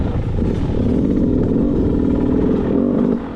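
A Beta 200 dirt bike engine drones steadily at low revs while climbing a hill, loud and close, holding a constant pull with a slight dip at the end.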